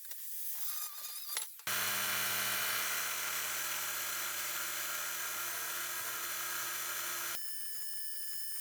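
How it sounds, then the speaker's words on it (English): A belt sander grinds mill scale off DOM steel tubing of 0.083-inch wall for an electric dirt bike frame, a loud steady whining buzz starting abruptly after a brief quieter stretch and cutting off near the end. "cleaned the mill scale off using a belt sander"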